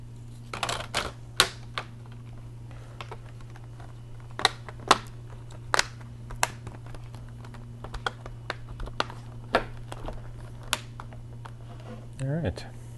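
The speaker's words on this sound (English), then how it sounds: "Let's go ahead and snap the bezel back on." Plastic screen bezel of an Acer Aspire 5551 laptop being snapped back into place, a run of sharp separate clicks and snaps spread across several seconds over a steady low hum, close by.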